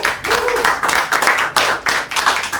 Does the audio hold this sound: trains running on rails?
no